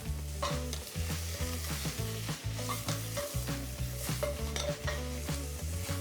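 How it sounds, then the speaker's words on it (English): Mushrooms sear in a de Buyer Prima Matera copper pan, a continuous close sizzle broken by frequent rhythmic scraping and clinking of a utensil stirring against the metal, with no voices. "Just want to get a nice sear on these mushrooms before I add the shallots."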